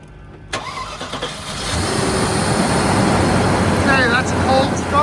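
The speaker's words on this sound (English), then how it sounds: "to hear the engine start and run" A 2004 Land Rover Discovery G4 makes a cold start in 35-degree weather. A brief crank catches quickly, and the engine settles into a loud, steady, rumbling idle, with faint voices near the end.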